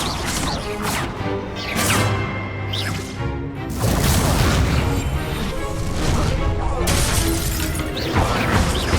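A Confringo fire spell bursts in Hogwarts Legacy, a loud crackling, shattering blast with whooshing debris. It is continuous and dense, and a voice is heard under it.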